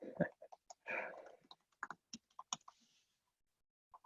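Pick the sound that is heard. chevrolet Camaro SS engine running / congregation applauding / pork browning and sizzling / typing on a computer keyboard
typing on a computer keyboard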